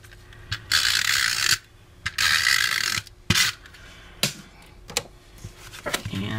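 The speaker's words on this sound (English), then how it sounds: "I'm going to go ahead and round the corners again" A paper corner rounder punch clicks and crunches through notebook corners, with bursts of broadband scraping and sharp mechanical snaps, several punches in an uneven rhythm, close and fairly loud.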